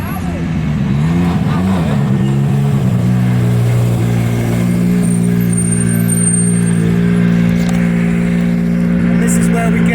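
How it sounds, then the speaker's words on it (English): A rally car warming its tyres, engine droning and revving with steady harmonic tones and some surging, loud and close, with a commentator talking over it. "A little bit of tyre warming there."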